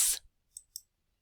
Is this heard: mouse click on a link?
yes